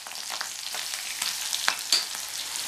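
Crushed garlic hits hot oil in a frying pan while cooking a sirukeerai greens stir-fry, giving a steady close sizzle with scattered scraping stirs and small pops.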